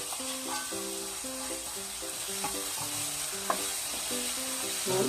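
Tofu sisig mixture with onions frying in a pan over low heat, a steady close sizzle with clinking stirring strokes and scraping throughout.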